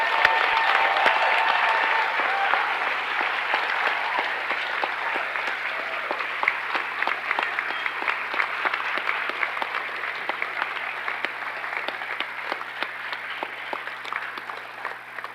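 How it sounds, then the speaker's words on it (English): An audience at a scholarship awards night applauds the students, a loud, dense, sustained wash of many hands clapping that carries on steadily for the whole stretch with no talking. "At this time, we can give them the round of applause deserved."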